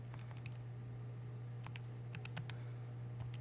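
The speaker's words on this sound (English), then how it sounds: "So I'm going to go here and type in my equation" Quick, light keystrokes tapped out in short irregular bursts on a keyboard while entering a quadratic equation, close and fairly quiet over a steady electrical hum.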